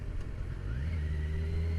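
Kawasaki Ninja 1000 SX motorcycle engine while riding, a steady mid-low engine drone with gear whine and induction noise, pitch rising smoothly as the throttle opens, close and continuous with no voices.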